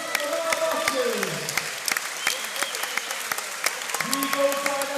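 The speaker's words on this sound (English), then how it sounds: "please have a big round of applause for both of our boxers" Audience applause fills a boxing venue after a bout, dense continuous clapping with whistles and cheers, while a ring announcer's amplified voice rises above it.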